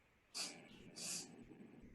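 Two short, breathy cartoon sniffs of the air a moment apart, close and fairly loud, with a faint background hum and no talking.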